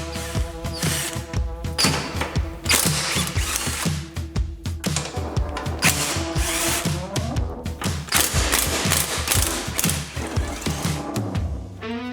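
Power tool ratcheting and mechanical whirring while bolts come out of the front frame of a Craftsman 917 series lawn tractor, loud and continuous with repeated bursts and clanks over music-like tonal bands.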